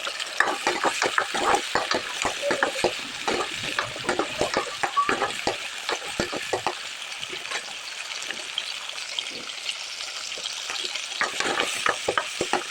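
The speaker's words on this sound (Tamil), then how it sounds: "வெங்காயம் வந்து கொஞ்சம் கொஞ்சமாக வதங்கணும்" Onions sauté in a pan for a dried anchovy curry with a steady sizzle and rapid, repeated scraping stirs of a spatula, close and fairly loud with no talk.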